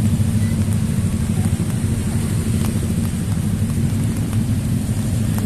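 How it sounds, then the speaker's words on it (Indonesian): Steady heavy rain falling outdoors, a dense continuous hiss with a strong low rumble underneath, close and loud throughout with no clear voices. "hujan ya."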